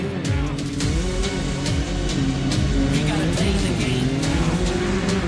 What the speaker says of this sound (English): Next off the line, we've got Kyle Cheney and CJ Greaves. It's a Can-Am Maverick R versus Polaris Razor Pro R.